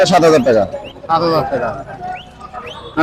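Young birds and pigeons at the Tongi bird market in Bangladesh, giving cooing notes and short chirps and whistles close by, while people talk over and between the calls.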